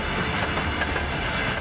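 A military train hauling tanks and tracked armored vehicles rolls along a railway, a dense, loud rumble with a brief rhythmic clatter of wheels over rail joints.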